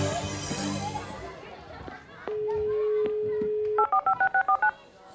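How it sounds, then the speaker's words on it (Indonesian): A landline is dialed on the Indonesian children's TV quiz show Siapa Berani, National Children's Day special: after a burst of children's chatter, a steady dial tone hums, then a quick run of about seven clean DTMF beeps. "kita akan telepon ke rumah nih yang milih Fani"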